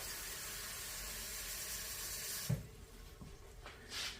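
Tap water runs steadily into a cup as chops are being smothered in the kitchen, a close, continuous hissing splash that stops abruptly partway through, leaving quieter room sound with a faint clink.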